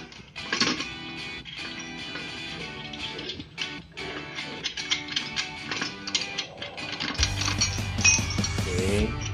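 Ratcheting clicks and mechanical rattling while bolts are removed during assembly of a Venus 7-foot mesh satellite dish, fairly steady and busy throughout, ending in a louder, denser stretch.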